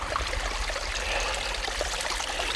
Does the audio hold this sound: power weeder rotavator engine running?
no